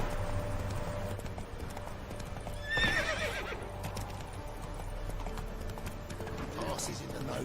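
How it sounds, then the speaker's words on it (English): Horses in the city of Novigrad in The Witcher 3 video game, with steady clip-clop hooves and a single neigh partway through, heard under game ambience and a voice talking. "Horses in the Novigrad."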